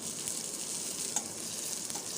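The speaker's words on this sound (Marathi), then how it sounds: "मिरच्या आणि जिरं तेलामध्ये छान परतून घ्यायचं" A teaspoon of cumin seeds and three dried red chillies fry in hot oil in a kadai, giving a dense, even sizzle with faint crackles and no one speaking.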